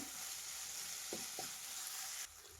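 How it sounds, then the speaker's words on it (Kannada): Onion and tomato frying in a pan for egg rice, a faint, steady sizzling hiss with a couple of soft knocks from stirring before the hiss drops away near the end. "ಸಾಕು ಇಷ್ಟು ಫ್ರೈ ಆಗಿರೋದು ಟೊಮೆಟೊ ಮತ್ತು ಈರುಳ್ಳಿ"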